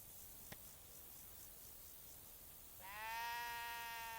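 A sheep bleats once, a clear wavering call rising out of faint background hiss near the end, in the video game Kingdom Come: Deliverance II.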